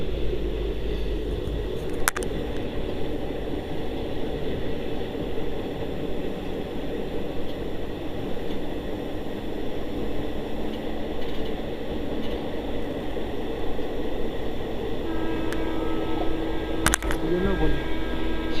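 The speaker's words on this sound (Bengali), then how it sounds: "ট্রেনে চড়ে এই দৃশ্য দেখতে দেখতে যাওয়ায় আলাদাই মজা আলাদা" Steady rumble of a moving passenger train heard from inside a carriage on a trip from Nabadwip toward Banaras, continuous rolling noise with a few brief clanks, and faint voices underneath.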